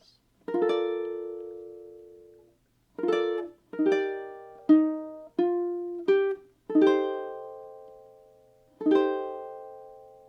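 Ukulele strumming bar chords, about eight bright strummed chords with gaps, each ringing out and fading, close and clear with no voices.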